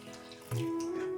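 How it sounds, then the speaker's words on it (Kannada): Water pours steadily into a metal cooking pot holding fried ingredients, starting abruptly and continuing with a rising ringing tone as the vessel fills, close and clear. "ನೀರು ಹಾಕ್ತಾಯಿದ್ದೀನಿ"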